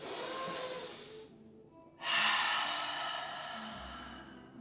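Deep breaths during a Pilates exercise on a fitball: a long, airy exhale, a short pause, then another strong breath fading out, close and with no talk.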